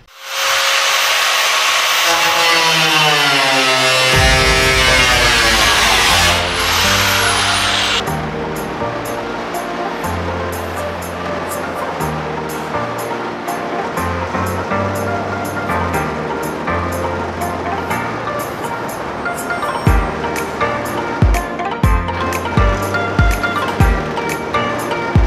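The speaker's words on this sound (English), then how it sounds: "Now we're trying the angle grinder just to get something started." An angle grinder bites into the steel side of a school bus being converted into a skoolie for RV window installation: a loud, harsh whining grind, then a steadier rhythmic churning with sharp knocks near the end.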